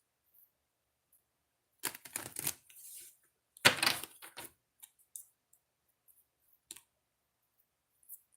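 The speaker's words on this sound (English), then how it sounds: "Do a couple shuffles." Oracle cards are shuffled in two short riffling bursts, followed by a few scattered light taps and clicks in an otherwise quiet room.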